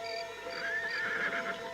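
A horse neighs as a sound effect in an Indonesian radio drama, a single drawn-out whinny with a wavering pitch over a steady hum, fairly close and without voices.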